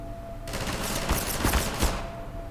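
Rapid machine-gun fire in Half-Life 2 erupts abruptly and continues as a loud, continuous rattle with a few heavier bursts mixed in, with no voices over it.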